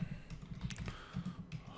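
Quick typing on a computer keyboard, a close, quiet burst of rapid irregular key clicks in a short run, with no talking.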